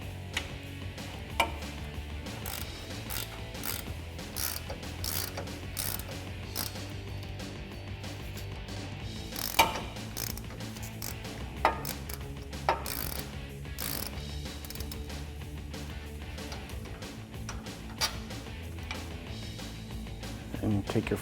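A hand ratchet turns an 18 mm socket on a sway bar end link bolt of a Jeep Wrangler JL during a Teraflex lift install, making repeated quick ticking clicks in bursts, close by, with someone talking over it.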